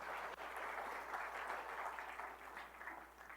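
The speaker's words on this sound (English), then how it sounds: "Please wave, and please give them all a round of applause." Faint, distant audience applause in a lecture hall at a talk about Camp David, a steady patter of clapping heard through low-level room noise and hum.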